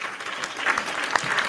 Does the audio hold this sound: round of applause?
yes